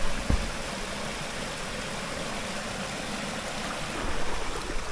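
A river near a family farm in a rural village, running low, gives off a steady, broad rushing wash throughout with no voices.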